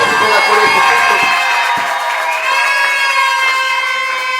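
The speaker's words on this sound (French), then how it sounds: "Acclamons très fort le Seigneur Jésus-Christ." A church congregation at a seminar closing service cheers and shouts in acclaim, a loud, sustained crowd roar with raised voices throughout.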